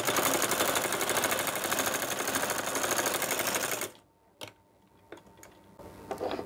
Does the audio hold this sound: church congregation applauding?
no